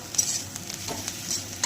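Morola fish fries in a pan for bati chorchori, giving a steady close sizzle with faint stirring scrapes and no speech.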